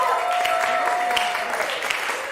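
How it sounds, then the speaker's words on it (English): Festival audience at M³ Festival 2024 applauding the musicians after their set, a full, continuous clapping with some crowd murmur. "One more applause for Gwen Laster and Dafna Naphtali."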